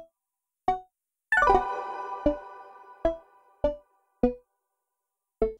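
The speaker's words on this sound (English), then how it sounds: "And with oscillator B." A synth voice stacking oscillator A, a fixed-pitch oscillator B and a sub-oscillator plays a sparse melodic line of bright plucked notes, one swift cascading run, then regularly spaced single tones, crisp and close, with no talking.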